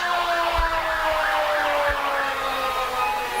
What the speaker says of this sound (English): You hear the sirens going, the lights flashing.